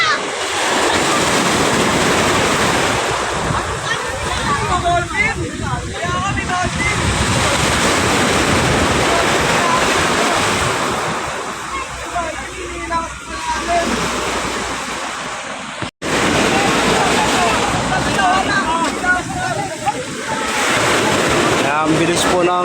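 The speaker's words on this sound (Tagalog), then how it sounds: "Yung hampas ng alon." Ocean waves at Ilijan, Batangas crash repeatedly against a sea wall at midday as the water rises, loud broadband surges in rolling succession with heavy wind noise on the microphone.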